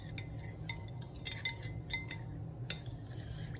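A spoon clinks against a bowl while a pork injection marinade is stirred, making a string of light, irregular metallic taps and chinks, fairly quiet and close.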